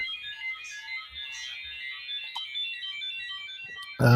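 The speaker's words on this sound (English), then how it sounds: "We do have a phone call coming in the background, but we're not going to be answering it" A phone rings with an incoming call, its steady warbling electronic ringtone sounding in the background for about four seconds before a sharp thump cuts in at the end.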